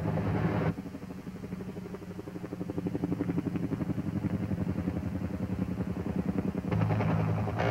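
Armed helicopter gunships fly past with a steady, rapid rotor chop and engine drone at a moderate distance, broader and louder at the start and end with a thinner, rhythmic beat in between.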